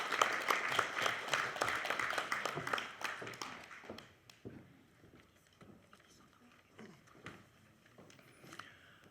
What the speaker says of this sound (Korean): 여러분 심찬 박수로 좀 모셔주기 바랍니다.